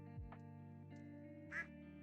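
A duck in a farming video game gives a few soft quacks, with one sharper quack near the end, over a steady low musical background drone and faint game tones.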